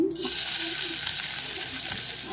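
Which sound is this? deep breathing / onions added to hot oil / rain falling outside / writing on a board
onions added to hot oil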